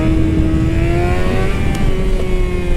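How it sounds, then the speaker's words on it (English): A motorcycle engine runs loud and close during a wheelie attempt, holding a steady mid-pitched droning note with a slight rise in pitch, without talk over it. "we're gonna grab the clutch in, rev a little bit, rev again, dump the clutch, and that front wheel will come up"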